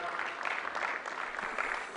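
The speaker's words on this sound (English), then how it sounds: "Delegates, let's give a round of applause to the chair." Delegates at a group schemes meeting applaud the chair, a faint, even patter of clapping from a moderate-sized audience lasting about two seconds.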